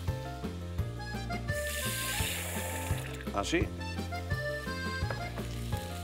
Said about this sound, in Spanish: Y le añadimos esta agua aquí. Con el ajo majado y el perejil.